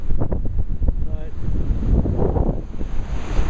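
Gusty wind buffets the microphone at a beach in a constant low roar, with faint surf beneath and a brief voice in the middle.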